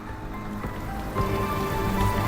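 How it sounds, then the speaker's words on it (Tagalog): Steady rain pattering on a surface, a dense, even wash of drops that swells slightly louder midway, with no voices over it. "Ulan pa po yan."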